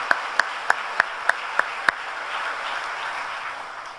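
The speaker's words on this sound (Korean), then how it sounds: "아버지 앞에 모든 감사와 영광의 박수 올려드립니다" A church congregation at a Friday all-night worship service applauds, a broad, distant wash of clapping that builds and holds, opened by seven evenly spaced sharp claps or taps in a row.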